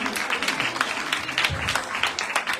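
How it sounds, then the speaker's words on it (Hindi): An audience applauding children after a tableau performance, steady mid-distance clapping with a busy, crowd-like texture that holds throughout. "जोरदार तालियां"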